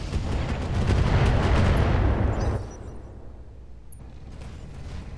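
Heavy weapons fire from battle mechs in Roguetech Battletech, a loud sustained barrage of booming shots and rumble that cuts off abruptly midway, followed by quieter low background noise.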